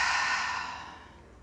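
A deep, breathy exhale during a guided breathing exercise, close and steady, starting loud and gradually fading over about a second and a half with no talking.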